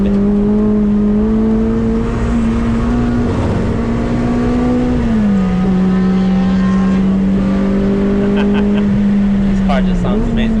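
A Honda Civic EP3 Type R races hard on the Castle Combe circuit, its engine a loud, sustained high-revving drone held close, with pitch dips at gear changes and a voice talking over it.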